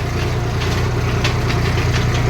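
Massey Ferguson 5245 tractor engine running while being driven, a loud, steady low diesel chugging with a rhythmic knocking throb, close and continuous.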